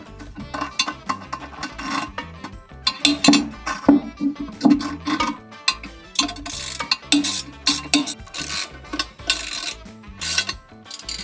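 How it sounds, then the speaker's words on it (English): Two nuts being run down together onto toilet bolts with a ratcheting tool, a fast, close, uneven series of metallic clicks and rattling bursts with brief pauses between them. "I'm tightening or getting both nuts ran down at the same time."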